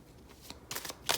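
A deck of tarot cards gets a quick, quiet shuffle, with soft riffling bursts that build to a crisp final flutter, recorded close up.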